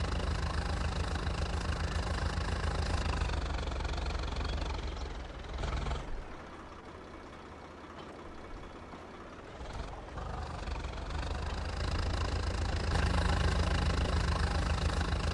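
A stock company tractor with little power strains in an Indian-mod tochan tug-of-war in Farming Simulator 22, its engine droning loud and steady, easing off briefly in the middle before roaring back to full volume.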